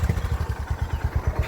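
A CB 350 or Himalayan motorcycle lugs slowly in fifth gear, its engine giving a steady, deep, rapid thumping pulse at close range with no talk.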